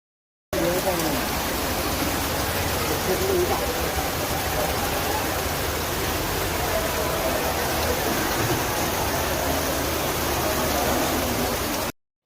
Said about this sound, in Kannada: ಇದು ಮಳೆ ನೀರಿಂದ ಹರಿತಿರುವ ಕೆರೆ